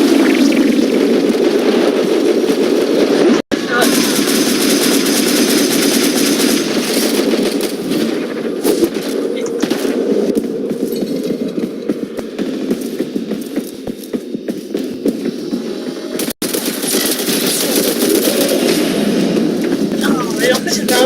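Video game gunfire rattles in rapid bursts through a long, loud stretch of battle, a dense mechanical clatter with a throbbing hum underneath and brief cut-outs, as a player hides and shoots at an opponent.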